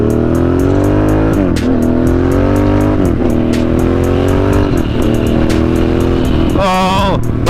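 A motorcycle engine drones loud and steady as the rider goes through gears, its pitch rising and dropping repeatedly before a sharp burst of throttle near the end.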